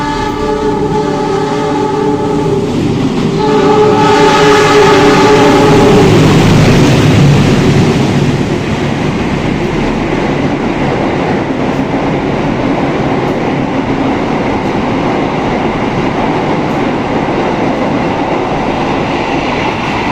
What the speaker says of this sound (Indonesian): Kereta api Bima melintas langsung di stasiun Purwosari dengan tujuan akhir di stasiun Jakarta Gambir.